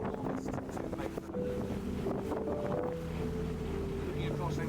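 Wind on the Norfolk Broads among classic yachts gusts steadily across the microphone in a loud, close rumble, with voices and a faint engine hum underneath.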